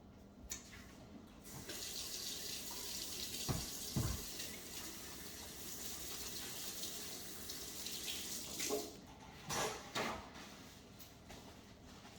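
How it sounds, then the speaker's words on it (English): Tap water runs steadily into a sink while hands are washed beneath it, close, with a few clunks and splashes, then the flow cuts off. "let me wash my hand."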